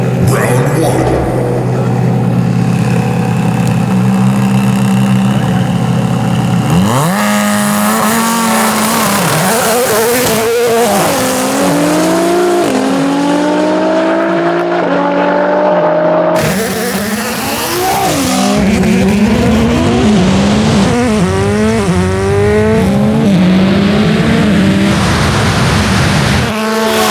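A 1,200 AWHP Nissan GT-R and Travis Pastrana's Gymkhana 2020 Subaru STI drag race, engines revving hard with rising and falling gear-change sweeps, loud and close, shifting up through the run as a commentator talks over them.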